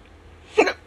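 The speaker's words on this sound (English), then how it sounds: "I have the hiccups." A single short hiccup, a close, sharp little vocal jolt that stands out against a quiet background, with no talking around it.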